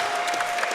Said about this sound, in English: This crowd is going crazy for this fight.